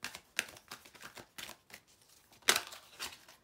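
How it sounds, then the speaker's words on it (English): Tarot cards being shuffled by hand during a reading, a quiet run of soft riffling taps and papery flicks in an uneven rhythm, with one sharper snap partway through; close and fairly faint, with no talking. "Let's do one more shuffle for these."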